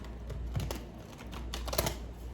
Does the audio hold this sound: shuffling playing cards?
yes